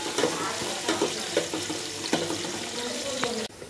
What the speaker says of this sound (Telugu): చూసారు కదండి, ఆనియన్స్ అనేవి ఫ్రై అయిపోయినాయి